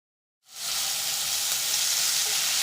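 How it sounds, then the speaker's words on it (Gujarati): A sudden loud sizzle bursts in as paste and curry leaves hit hot oil for tempering, then settles into a steady, bright crackling hiss. "થોડા મીઠા લીમડાના પાન ઉમેરી વઘારને એક મિનિટ જેવું સાંતળી લઈએ"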